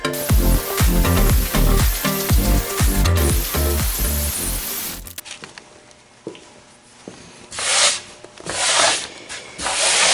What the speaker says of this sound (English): I need some new sandpaper for my belt sander.